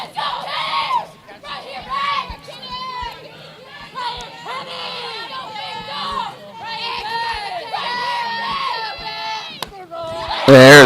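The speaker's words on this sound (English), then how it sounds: "I was just listening and hearing the Durant dugout get loud" A softball dugout of reserves cheering loudly and chanting for their pitcher during a Durant vs Robinson high school game, sustained voices rising and falling with sharp claps and shouts, close and lively throughout.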